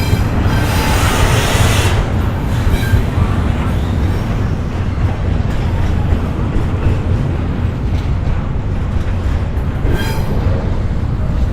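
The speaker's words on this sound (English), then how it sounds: "Train in the middle of Miami." A train rumbles loudly and steadily through downtown Miami, a continuous close roar of rolling wheels and rail clatter that fills the whole stretch without a break.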